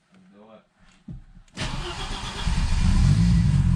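A turbocharged Audi UrS6 C4 AAN five-cylinder with a big turbo upgrade and newly installed VEMS ECU cranks briefly after some talk, then catches and settles into a loud, steady idle close by.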